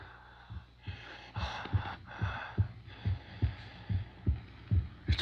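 Rhythmic, heavy breathing of a creature in a science-fiction radio drama, steady pulsing breaths repeating about every half second, close and prominent, with no talking over them.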